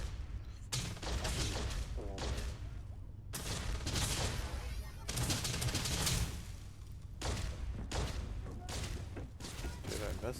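Gunfire in a video game, repeated bursts of loud rattling shots separated by brief pauses across the stretch, with speech mixed in.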